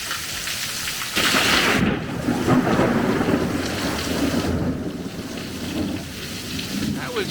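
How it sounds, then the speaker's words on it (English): Heavy afternoon rain pours steadily during a Central Florida thunderstorm, with loud rolling thunder rising over the downpour. "tons of rain coming down."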